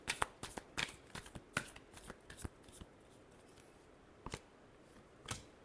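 Tarot cards being shuffled close by, quick irregular riffling flicks and taps, busy at first and then sparser, quiet with no talk.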